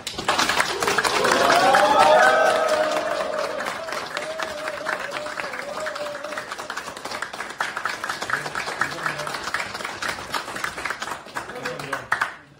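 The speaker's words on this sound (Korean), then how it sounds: "여러분의 박수와 함성으로 시작하도록 하겠습니다" Audience at a political candidate's campaign launch press conference in Gwangju bursts into dense sustained clapping with cheering shouts, loudest early then settling into steady applause that fades near the end.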